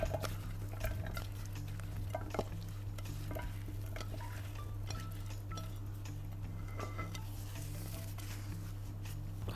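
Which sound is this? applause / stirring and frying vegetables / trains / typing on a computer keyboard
stirring and frying vegetables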